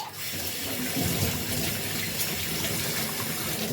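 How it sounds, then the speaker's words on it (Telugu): A kitchen tap runs continuously while a sink is washed, a steady broadband gush of water splashing into the basin with faint clatter, no talking. "షింక్ని కూడా ఇలా నీట్గా కడిగించుకోవాలన్నమాట"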